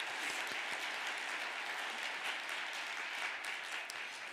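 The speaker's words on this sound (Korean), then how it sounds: "여기 계신 엄마 아빠들에게 한번 박수 한번 보내주시면 좋겠습니다." Steady applause from a church audience honoring mothers and fathers present at an all-night prayer service, a dense even wash of many hands clapping, moderately distant with no voices over it.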